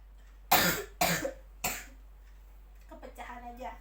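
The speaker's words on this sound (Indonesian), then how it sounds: "Maaf ya, ibu lagi batuk" A woman coughs three times in sharp, loud bursts, close to the mic, during a maths lesson, then her voice resumes speaking softly at the end.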